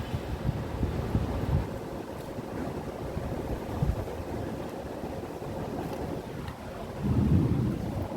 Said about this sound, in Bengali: দেখো মেঘ কেমন ডাকছে